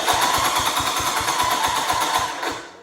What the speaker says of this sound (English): I might have to start the tractor up.